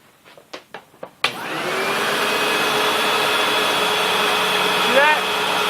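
A Sebo X4 Pet Edition upright vacuum cleaner starts after a few knocks and runs at a steady, loud, even whine. A brief rising squeal comes near the end.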